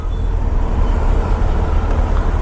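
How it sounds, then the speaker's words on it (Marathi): Dense road traffic hums on all sides, a steady loud rumble of cars, buses and trucks idling and creeping along, with no voices over it. "कसली ट्रॅफिक लागली रे"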